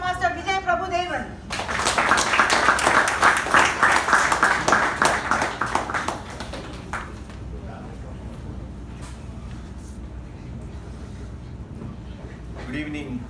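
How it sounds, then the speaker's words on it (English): Audience applause at a Toastmasters installation ceremony welcoming the installation officer, a dense burst of clapping that rises quickly and holds for several seconds, then thins out and fades into quieter room noise. "Let us give a huge round of applause and welcome the installation officer"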